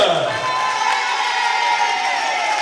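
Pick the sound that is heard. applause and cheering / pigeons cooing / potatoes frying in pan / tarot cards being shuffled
applause and cheering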